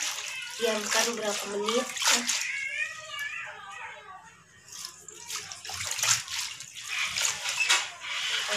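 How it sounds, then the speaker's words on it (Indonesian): Fresh water spinach (kangkung) is washed by hand in water, with sloshing and splashing heard under someone talking in the kitchen. "Di sini ada kangkung. Kita cuci bersih, kemudian kasih garam dulu ya."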